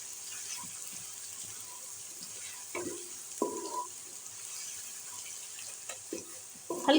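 Ginger garlic paste fries in a pan on a stovetop for a kofta curry, giving a steady, soft sizzle with a few louder stirring scrapes and clatters near the end.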